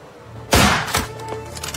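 A single loud gunshot in a tense crime-drama scene, a sharp bang followed by a second thump and some lingering rumble.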